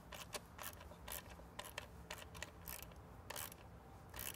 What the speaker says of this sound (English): we're going to torque these down to 89 inch-pounds